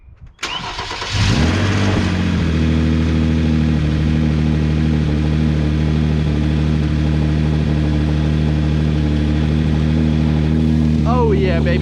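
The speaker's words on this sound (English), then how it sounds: "Let's go ahead and start the car and see if the noise is gone." Hyundai Genesis Coupe 3.8 engine cranks briefly, catches and settles into a steady, loud idle nearby, running evenly for several seconds, with a voice starting at the very end.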